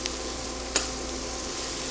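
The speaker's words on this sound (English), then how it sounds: "this action of sizzling things in oil in a pan in a single layer, keeping the heat up" Vegetables sizzle in hot oil in a single layer in a pan for Latin-style beans, a steady loud hiss throughout with one brief sharp tick partway in and no talking.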